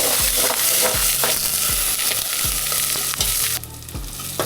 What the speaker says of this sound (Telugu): ఇప్పుడు ఆయిల్ వేడెక్కిపోయింది ఫస్ట్ సాజీర వేస్తున్నాను ఆనియన్స్ వేస్తున్నాను